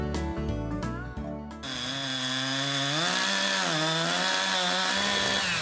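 A large chainsaw cutting down a tree on rural land, a brief choppy start followed by a steady loud high whine that dips and rises in pitch as the chain bites, close by with no talking.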